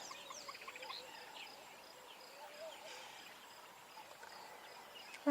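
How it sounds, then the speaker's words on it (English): Scattered, faint bird calls drift across a quiet sunrise safari in the African bush on a cloudy morning, with soft distant chirps over a low, steady ambience. "We've got a lot of birds around this morning. We're hearing the calls."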